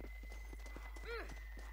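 Horse hooves beating at a steady gallop in the Red Dead Redemption Undead Nightmare video game, a quick rhythmic clip-clop with a short whinny partway through, over a constant low hum.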